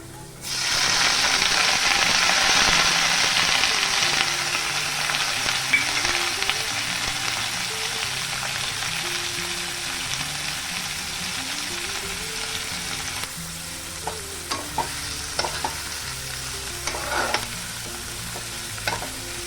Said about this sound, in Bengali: এবার আমি পেঁয়াজ আর কাঁচা লঙ্কা চেরা দিয়ে দেবো।